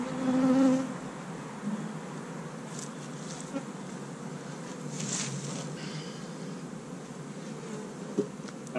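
Steady, dense buzzing of honey bees surrounding the listener in an apiary as hives are moved, fairly loud and continuous, with a swarm-like drone and occasional closer passes.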